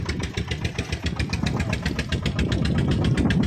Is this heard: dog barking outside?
no